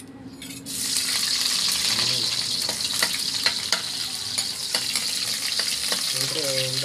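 Onion sautés in a pan as a loud, continuous sizzle with repeated clicks and scrapes from stirring throughout, plus faint squeaks in the background.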